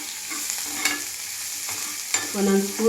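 Finely chopped garlic and green chillies fry in hot oil, a close, steady sizzle broken by stirring scrapes and clinks of a spoon against the pan.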